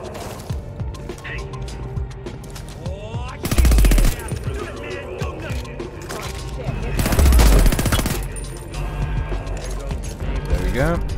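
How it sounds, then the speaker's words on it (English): Gunfire in the video game Homefront: The Revolution: loud bursts and rapid automatic fire with crashes, mixed with game sounds and voices. "I'm just shooting things."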